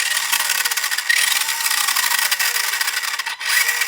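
A 1981 Tamiya Ranger F150 XLT RC truck's electric motor whines steadily on throttle, rising and falling in pitch as the throttle is worked, close and loud with no talk.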